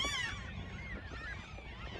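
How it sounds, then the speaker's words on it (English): Large flock of terns, a type of gull, on farm and ranch land, many overlapping harsh calls and squawks forming a dense chorus, loud and fairly close, strongest at the start. "There's probably a couple hundred of these birds here. They're called kern. They're a gull."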